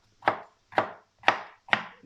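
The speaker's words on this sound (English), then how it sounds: "So I'm just gonna cut a piece of the pepper." A knife slices through a bell pepper on a cutting board, four evenly spaced sharp chops about half a second apart, close and clear with no voices.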